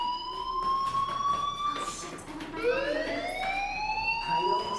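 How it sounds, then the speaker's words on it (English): A fire alarm in the video game Life Is Strange wails loud and close in rising and falling electronic sweeps, with a second overlapping siren tone joining partway through. "Hey, do you hear that fire alarm?"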